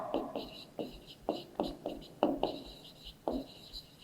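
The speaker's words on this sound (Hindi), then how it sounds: "चलिए इसको लिखते हैं" Writing out a maths problem in a Class 7 lesson on decimals and fractions: about a dozen short scratchy strokes come in quick bursts, close and fairly faint, with soft breathy voice sounds in between.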